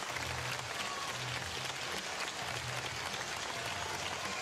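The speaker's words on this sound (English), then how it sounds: "the California youngsters went over and applauded the fans applauding back" A crowd applauds steadily at a Little League World Series baseball game, with dense, continuous clapping that holds at an even level throughout, like a broad stadium ovation with no voices standing out.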